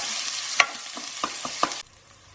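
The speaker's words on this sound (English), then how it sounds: "we're going to saute these onions till they turn translucent" Onions sautéing in a pan for an Indian eggplant curry, a soft sizzle with a few sharp spoon scrapes and clicks, cutting off abruptly near the end.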